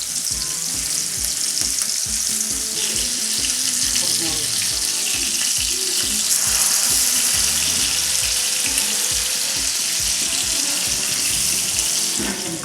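Mackerel fish fries in a pan on a dosa griddle with a loud, steady crackling sizzle that continues throughout, punctuated by faint spatters and pops close by.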